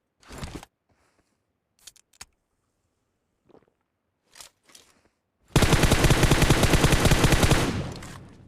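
Automatic gunfire rips through a Battlegrounds Mobile India match, a sustained loud burst of rapid shots lasting several seconds, preceded by a few isolated short shots and clicks, then fading at the end.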